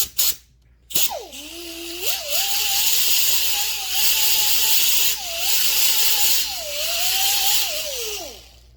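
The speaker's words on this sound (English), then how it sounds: "Now, flap wheel on the air grinder." An air grinder fitted with a flap wheel sands repaired plastic in one long, loud, whining run, its pitch dipping and rising as the tool is loaded and eased off, with a hiss of abrasion throughout.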